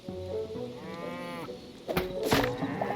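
Cow mooing in the video game Hytale, a drawn-out low moo heard close and clear, followed by a brighter bleating call and some game sound effects.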